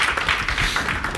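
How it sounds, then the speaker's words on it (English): An audience claps together at the end of a talk. Dense, continuous applause, loud and steady, fills the whole short stretch, with no voices over it. "All right, round of applause."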